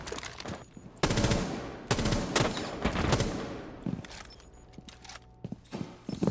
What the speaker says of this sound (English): He's only shooting in bursts, so it's a little hard to tell.